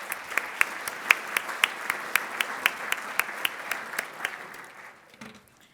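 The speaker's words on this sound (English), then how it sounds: "let's please have a warm round of applause for our two very special birthdays" A round of applause at a club meeting for two birthdays, heard as sparse, evenly spaced claps from a small group that continue at a steady pace for several seconds before fading out.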